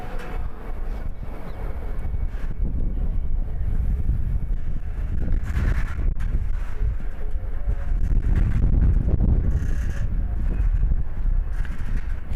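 Strong wind buffets the microphone at an outdoor javelin competition, a loud, rumbling, uneven roar with gusts that swell and fade throughout and no voices.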